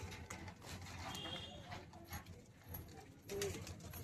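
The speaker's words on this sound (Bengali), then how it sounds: "দেখো পায়রাগুলো, দেখো টেডিগুলো" Pigeons, including red-eyed golden birds, shuffle and coo at a bird seller's stall, soft cooing and wingbeat-like flutters rising and falling around a brief louder burst near the end.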